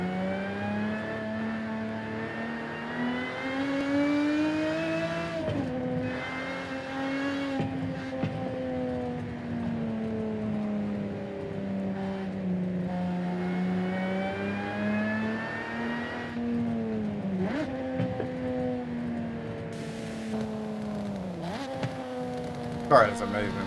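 A car engine in Forza Horizon 5 revs repeatedly, rising and falling in pitch with sharp dips between pulls, steady and prominent throughout with brief bits of speech.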